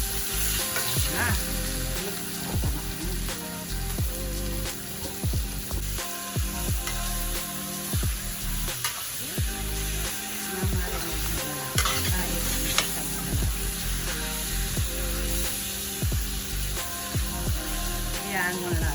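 Beef and broccoli sauté in a hot pan with a loud, continuous sizzle, stirring scrapes and clatter cutting through it, close up and steady throughout.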